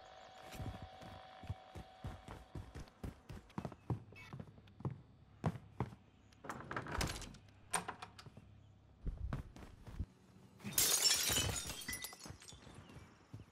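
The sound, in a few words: glass breaking in a video game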